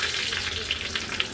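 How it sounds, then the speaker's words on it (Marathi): Mustard seeds and curry leaves crackle and sizzle in about two spoonfuls of hot oil during a tempering for a Maharashtrian thali dish, with a steady dense hiss broken by small spitting pops. "व्यवस्थित आपली फोडणी तडतडली"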